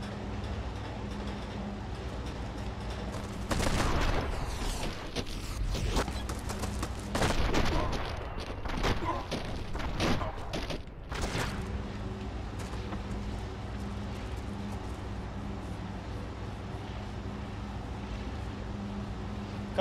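Shotgun blasts in Enter the Matrix, several loud broadband shots clustered in the middle stretch over a steady droning background, with quieter gaps before and after.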